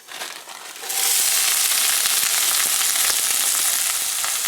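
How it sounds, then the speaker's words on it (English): A packet of onions hits a hot pan and starts frying. After a short quiet moment a loud, dense sizzle bursts up and holds steady, close by, with no voices. "We're going to put in a packet of onions."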